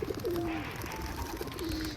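Soft cooing of pigeons nearby, a couple of low warbling calls over quiet background hum.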